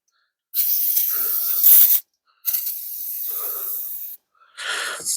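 Aerosol starting fluid sprayed as a parts cleaner while working on a Bobcat, three close hissing bursts separated by short silences, the last one brief.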